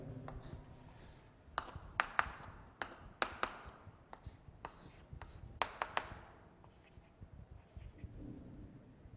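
Chalk or marker writing out a chemistry equation for a reaction with concentrated H2SO4, heard as a run of quiet scratches and sharp taps in irregular bursts, close by with no talking.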